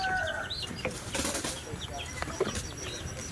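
A chicken beats its wings in a short, loud flurry close by, with rustling and a faint bird call in the background.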